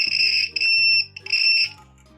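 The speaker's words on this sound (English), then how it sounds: "when this wire touches this, you will hear the buzzer." A loud, steady electric buzzer in a DIY steady-hands wire loop game sounds in three sustained bursts as the wire touches, with short gaps between them, harsh and close.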